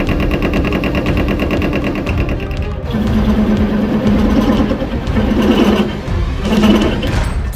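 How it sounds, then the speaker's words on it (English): Metal lathe running while machining parts for a scratch-built 150cc engine, a loud, harsh mechanical drone with rattling and grinding tones that shift in pitch, close and continuous, with no voices. "this lathe was making some horrendous noises"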